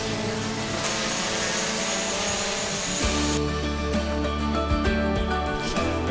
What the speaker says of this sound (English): better land the drone